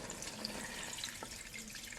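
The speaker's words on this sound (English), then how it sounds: "we're going to actually add 4 cups of water" Four cups of water pour steadily into a pot of chicken pelau, a continuous close splashing rush with a brief gurgle partway through.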